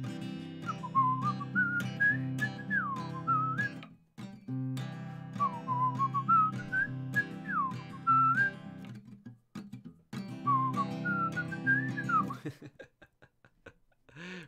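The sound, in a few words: person whistling a tune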